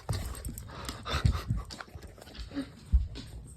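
A pet dog whimpers and pants in a garage workshop where a 1952 Chevrolet pickup is being restored, with irregular low thumps and shuffling nearby and no talking.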